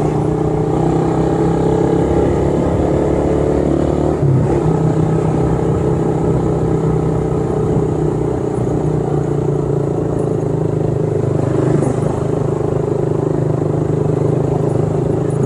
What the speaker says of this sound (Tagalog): Pangit ang tunog tuloy ng ano natin,